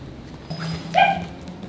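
A dog lets out a brief, high whimpering yip during a treat-based training session indoors, one short nasal cry close by over a quiet background.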